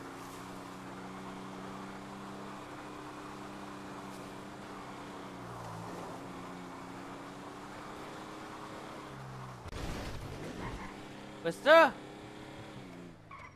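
A video game car engine hums steadily with layered tonal drone, then a burst of skidding and a sharp squealing screech near the end, with people talking over it.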